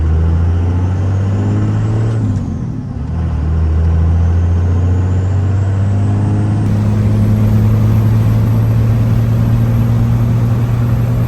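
A truck's engine hums steadily while driving at speed after repairs let it run above 2,000 RPM, a loud, continuous low drone with a brief dip as a gear changes, then the engine climbs back to a steady cruise.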